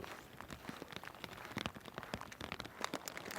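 Rain falls steadily over an urban canal lined with buildings, a soft, dense patter of drops at a faint, even level with no voices.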